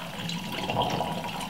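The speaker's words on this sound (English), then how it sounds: "I'm going to pop roughly about half glass of water" About half a glass of water is poured into a spinach, ginger, lemon, honey and cucumber smoothie, making a brief, soft liquid pour and splash at close range.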